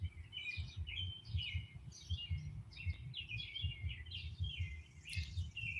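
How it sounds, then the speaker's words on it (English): Birds chirp and tweet outdoors after a storm, giving repeated quick calls at a moderate distance over a low rumbling background. There is no talking. "so the birds are having fun"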